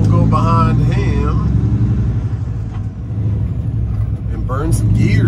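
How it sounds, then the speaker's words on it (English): A truck engine rumbles loud and close as it shifts gears and pulls away, the low drone rising and falling between shifts, with a voice talking over it. "Burn some gears, turn some gears, get going."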